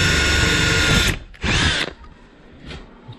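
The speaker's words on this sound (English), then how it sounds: "easiest way to start your cut is get a drill" A power drill whirs loudly at full speed for about a second while drilling into an epoxy countertop, stops, then revs again briefly before fading to quiet.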